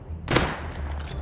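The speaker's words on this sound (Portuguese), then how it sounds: "os bots lá de cima tá dando tiro em nós" Gunfire from bots in the video game Rust shooting at players: a sharp loud burst followed by a quick series of fainter shots, rattling in a short volley with no talk over it.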